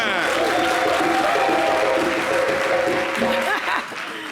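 Studio audience of a French-language TV variety show applauding loudly and continuously, with voices and tonal sounds mixed in, tapering off near the end.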